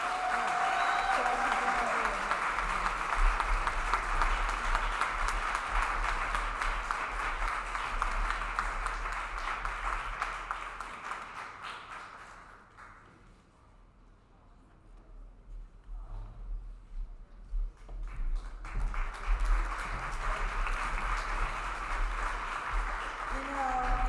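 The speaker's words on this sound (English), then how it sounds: "Let's give her a round of applause." An audience at a disability mentoring day reception gives long, steady applause that fades briefly midway, then swells again to full clapping, with some voices underneath.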